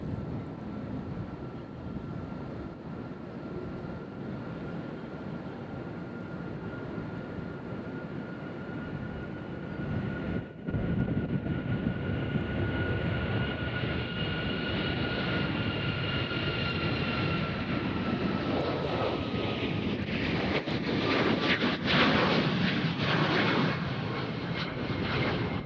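A Southwest Airlines airliner departs Nashville International Airport on a flight to Las Vegas, its engines a steady, loud roar with a whining tone that swells and brightens over the second half.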